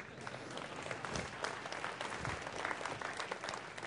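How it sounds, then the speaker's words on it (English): University audience at a State of the University address clapping for the Runnin' Rebels basketball team: sustained, even applause from many people at moderate loudness, with no speech over it. "you can clap for the Runnin' Rebels too"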